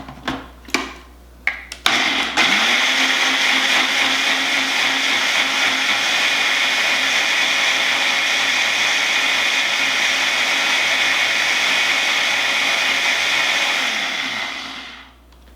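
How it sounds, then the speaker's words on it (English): A Ninja blender blending chilies runs loud and steady, a high whirring motor roar that holds for over ten seconds after a few brief knocks and clicks, then winds down at the end. "We're going to go ahead and blend this all together in the Ninja blender."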